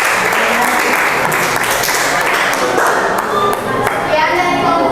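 A classroom full of students breaks into loud, sustained applause for group 1, with many hands clapping together and children's voices mixed in throughout.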